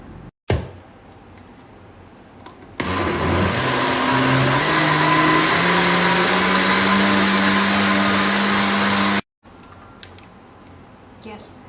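An electric blender or mixer whirs loudly for several seconds, blending a cold no-bake chocolate cake mixture, its motor pitch rising slowly as it runs, with clicks and handling sounds before and after and no talk.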